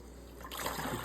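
Water trickles and leaks in a thin, steady stream, faint at first and then louder and more splashy halfway through, close by with no one talking.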